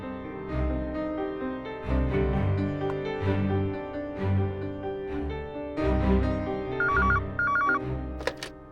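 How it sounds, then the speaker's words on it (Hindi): A landline telephone rings in short repeated bursts over a soft background of tones and music, fairly quiet and steady. "लैंडलाइन पे कॉल करता हूँ।"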